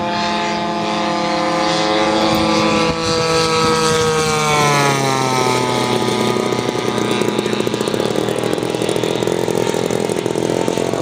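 A radio-controlled model airplane roars past at high speed during an RC airshow, its loud, buzzing engine whine dropping sharply in pitch as it passes close by, then continuing steadily.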